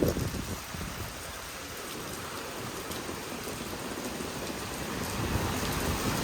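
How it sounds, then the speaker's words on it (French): Steady rain falls outside in France, a dense, even patter of drops on surfaces that holds throughout, moderately loud and unbroken, with no one speaking. "Il pleut encore mais beaucoup moins"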